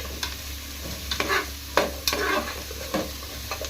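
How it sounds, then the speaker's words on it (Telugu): Chopped radish fries in oil in a pan with a steady, close sizzle, broken by several sharper scraping stirs of a spoon, and no voices. "ఈ ముల్లంగి కూడా ఇందులోనే ఈ ఆయిల్లోనే కొంచెం ఫ్రై చేసుకోవాలండి."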